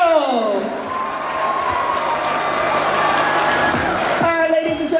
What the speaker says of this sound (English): Another round of applause for our Attorney General.